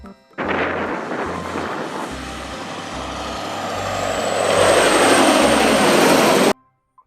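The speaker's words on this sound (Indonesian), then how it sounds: "Wow, ada truk trailer joget." A toy dancing trailer truck plays a loud electronic truck sound with a rhythmic low pulsing horn-like beat and a hissing, rising whine, running continuously for about six seconds before cutting off abruptly.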